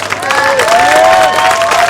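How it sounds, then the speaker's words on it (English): Crowd on the beach at Ho'okipa Beach Park on Maui applauding windsurfers at a wave-sailing final, a short burst of loud clapping and cheering mixed with a sustained tonal sound, close and steady throughout. "Let's give them a big round of applause."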